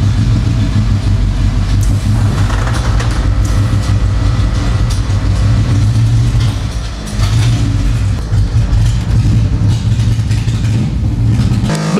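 A burble-tuned car engine revving hard and steady, loud and close with a deep droning rumble and crackling texture, dipping briefly midway before surging again, with no talk over it.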